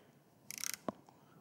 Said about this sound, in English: Snap the head of that right off, no slippage whatsoever.